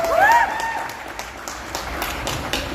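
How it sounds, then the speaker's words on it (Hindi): Audience applause at a song launch event, a crowd clapping steadily and fairly close, following a short voice at the start. "जोरदार ताली हो जाए भैया"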